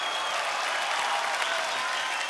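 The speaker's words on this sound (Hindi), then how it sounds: "ये तालियां जैकी जी के लिए बजाइए" Studio audience of a Hindi TV comedy show claps continuously, a thick, even roar of many hands heard up close and alone, without any speech.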